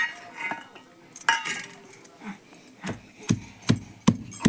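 Garlic cloves pounded in a mortar for an egg curry gravy, a run of sharp knocking thuds that grows more regular toward the end, close and fairly loud with no talk.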